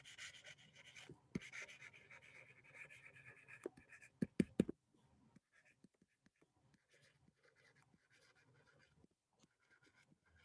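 Pen scratching on paper while an appropriation account heading is written by hand, a steady close scratching for about four seconds, a few sharp taps, then only sparse faint marks.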